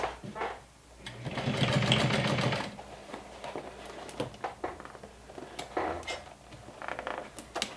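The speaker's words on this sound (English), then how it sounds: "I'm going to just stitch them down." A wind-up sewing machine stitching down the seams of a fabric wine bottle bag, with a steady mechanical whir in a sustained burst followed by shorter runs and clicks, close and clear with no talk.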